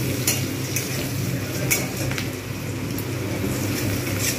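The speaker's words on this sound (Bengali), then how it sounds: "পেঁয়াজগুলো কিন্তু খুব সুন্দরভাবে লাল করে ভাজতে হবে।" Onions fry in plenty of hot oil over a high flame in a pan, a dense sizzle broken by scraping and light clinks from the stirring spoon, close and continuous.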